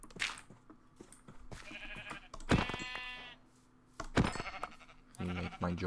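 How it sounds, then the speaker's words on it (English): Sheep bleating in the video game Minecraft, several loud, close bleats with pauses between them, heard alone without talk. "Oh, I see sheep over there."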